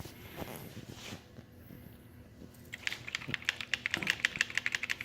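Computer keyboard typing that begins faintly and then grows into a quick, uneven run of crisp key clicks near the listener, with soft low noises underneath.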